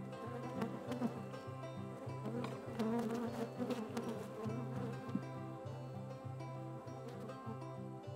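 Honey bees buzz steadily around a lifted brood-box frame during a hive inspection, a dense close droning swarm with a pulsing low hum and no talking.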